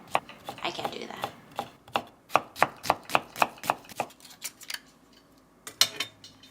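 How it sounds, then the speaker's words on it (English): A knife chops rapidly on a cutting board in a kitchen, sounding as a quick run of crisp, evenly spaced taps that stops briefly and then returns with a few final strokes, close and clear with no talk over it. "Her knife cutting skills are really good."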